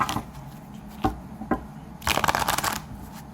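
Tarot cards being shuffled in quick riffling bursts: a few short snaps early on, then a longer dense flutter of card edges, close and fairly loud.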